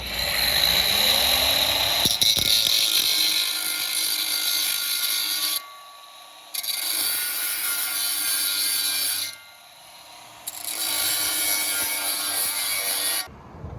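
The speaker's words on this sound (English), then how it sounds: "So I'm going to have to trim the bottom tab off both of these." A plastic clip tab being cut down with a power tool during a Ford F150 upgrade, a steady loud high-pitched whine running for several seconds, briefly stopping twice before resuming, with no talk.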